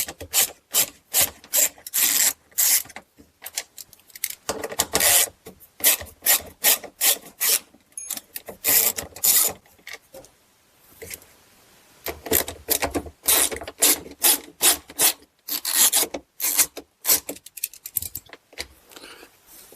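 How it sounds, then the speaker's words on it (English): An 8mm socket wrench ratchets out the bolts holding a Whirlpool washer's drain pump in place, giving a run of rapid, close rasping clicks in short bursts with brief pauses between them. "I'm just going to be using an 8mm socket here"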